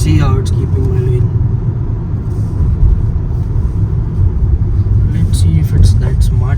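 A 2023 Kia Seltos GTX+ with the 1.5 turbo petrol engine and 7-speed dual-clutch gearbox pulls hard through a corner, heard as a loud, steady cabin rumble of engine and road noise with a few brief knocks.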